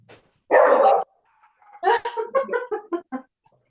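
Dogs bark close and loud indoors: one long, harsh bark, a pause, then a rapid burst of several yapping, gargly barks with whines mixed in.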